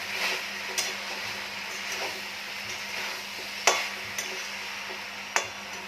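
Spices being stirred into a chachchari curry in a pan make soft scraping and a few sharp metallic taps of the spoon against the pan, scattered over a quiet kitchen background with no talking.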